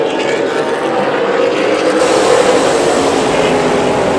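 Super late model race cars roar around the Bullring Las Vegas short track during a racing main event, a loud, continuous engine drone swelling as the cars pass close by.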